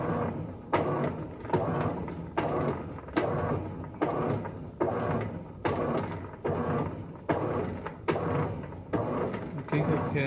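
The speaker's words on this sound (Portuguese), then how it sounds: "Você vê ali que a máquina está agitando para os dois lados." Colormaq washing machine with its pressure switch disconnected, agitating back and forth in both directions: a steady, rhythmic churning and sloshing that reverses roughly every 0.8 seconds, close and moderately loud, with no talk.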